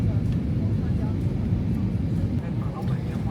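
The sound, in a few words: airplane cabin noise during a flight to Shanghai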